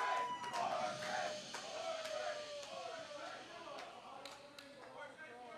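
A crowd yells and cheers at a distance during a boat race drinking game at a curling bonspiel, a muffled burst of overlapping voices and whoops.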